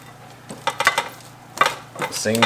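Roasted vegetables are shifted off a foil-lined tray into a bowl, giving a few brief clinks and scrapes of a utensil against metal and foil in two short clusters, with a voice speaking briefly at the end.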